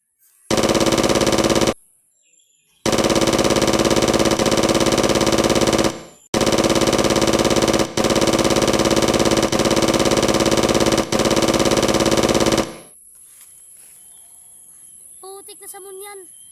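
Heavy sustained automatic gunfire from a weapon in a video game, loud near bursts separated by short gaps, then quieter background with chirping.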